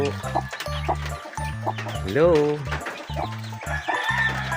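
A mother hen clucks in low, repeated pulses, with faint higher peeps from her chicks nearby and a voice calling out briefly.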